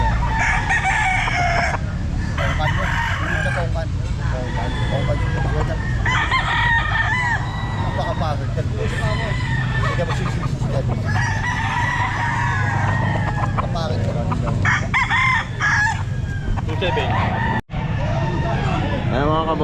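Chickens and roosters at a pet market cluck and crow in repeated loud calls over constant market hubbub, with people talking in the background.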